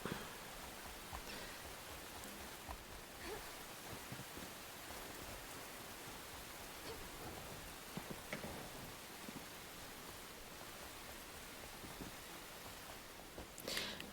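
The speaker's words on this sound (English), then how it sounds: "I wish it would rain like this here." Soft, steady rain falls in the video game Enshrouded, a faint continuous hiss of drops on surfaces with occasional light patters and no voices.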